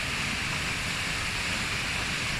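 Waterfall at the Birks of Aberfeldy, a steady, dense roar of falling water into a plunge pool, broadband and unbroken throughout, heard close and alone with no voices.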